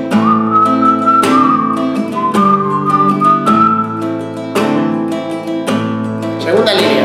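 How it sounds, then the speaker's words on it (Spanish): Someone whistles the verse melody of a song over a strummed acoustic guitar, with clear, close notes following the tune phrase by phrase. "Estrofa, os silbo."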